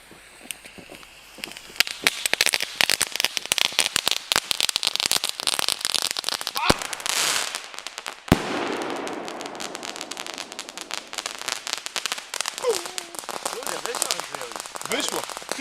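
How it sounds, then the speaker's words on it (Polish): A single-shot New Year's Eve firework with a crackling pellet sputters and pops in a long, dense crackle, loud and close, with sharp bangs midway, then fades while people talk. "Single shocik z trzeszczącą tabletką."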